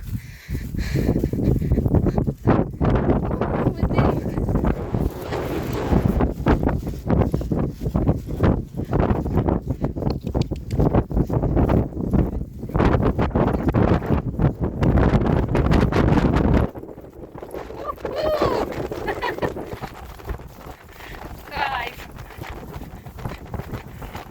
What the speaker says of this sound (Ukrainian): Тут трошки вітер